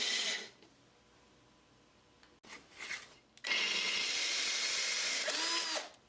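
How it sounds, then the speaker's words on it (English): A power drill cutting an angled hole in glass whines in bursts, grinding and rubbing against the hard surface, with a quiet pause between runs; close and loud. "start the drill and then slowly stand the drill up"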